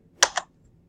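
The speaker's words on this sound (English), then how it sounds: "let's type the word buffer in, B-U-F-F-E-R" Two quick, close keystrokes tap on a computer keyboard while a word is being typed, sharp and clear against a quiet background.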